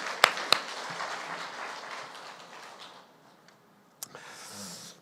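A church congregation clapping during a sermon: a couple of sharp claps, then a soft murmur of scattered applause that fades, followed by one more clap and faint crowd noise.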